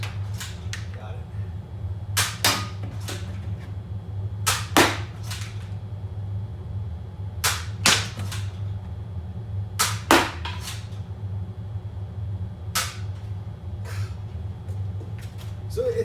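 A Nerf Trailblazer RD-8 blaster fires darts at a target in sharp, close pops, mostly in quick pairs spaced a few seconds apart, over a low steady hum, with some quiet talk between shots.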